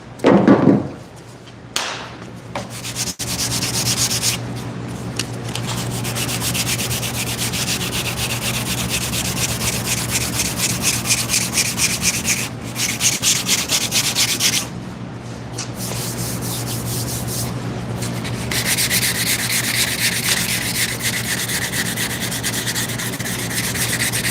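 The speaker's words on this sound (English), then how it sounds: "Block sanding does take patience, especially since this guy wants it black." Rhythmic back-and-forth scraping of a sanding block across a 1968 Dodge Charger body panel, steady and close, with a few thumps near the start and short pauses.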